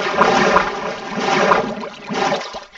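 A Minecraft player drops into water with a sustained splashing, sloshing rush that swells and fades over a few seconds, fairly loud and close.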